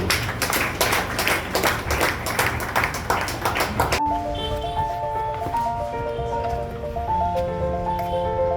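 Crowd applause at an outdoor mausoleum inauguration ceremony, a dense, steady patter of many hands clapping for about four seconds, then cutting off into quieter background sound with ringing tones.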